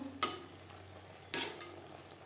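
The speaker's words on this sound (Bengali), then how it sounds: "ভাজা মশলা ভেন্ডির সাথে বেশ ভালো করে মিক্স করে দেব" Two short scraping strokes of a spoon stir okra and spices in a pan, over a faint low sizzle.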